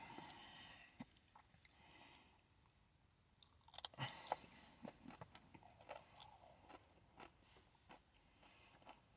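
Crunchy Mexican-style beef jerky, carne seca, gets chewed close to the microphone, with quiet, irregular crisp bites and crunches, a louder cluster partway through, then softer chewing continuing.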